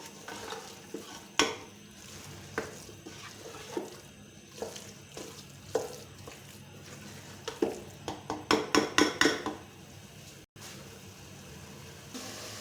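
Moringa (sohanjna) stirred and fried in a pan over medium heat, with a soft continuous sizzle and repeated scraping strokes of a spoon that quicken into a rapid cluster toward the end, with no talking.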